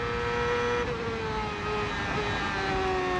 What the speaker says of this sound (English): You can hear 2 downshifts there, Paul.